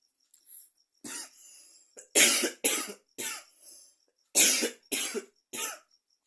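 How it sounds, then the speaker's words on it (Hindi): Repeated dry coughs from one person close up, coming in uneven bursts of two or three with short breaths between them. "सॉरी, आज खांसी आ रही है"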